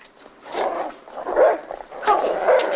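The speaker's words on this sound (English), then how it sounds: "I haven't heard Corky bark in ages" A dog yelps and barks in several short, whiny bursts spread over three seconds, close and fairly loud, in a 1952 crime film noir scene.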